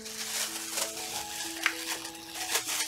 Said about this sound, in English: I'm whisking it to bring it back together